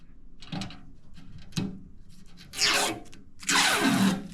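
Deep drawers of a U.S. General 5-drawer mechanics tool cart sliding open and shut, with two short knocks followed by two longer metallic rolling slides, close and alone.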